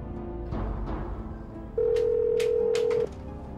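A telephone call goes through: soft tones give way to a steady, loud ringback tone lasting over a second, followed by a few sharp clicks, with no voices.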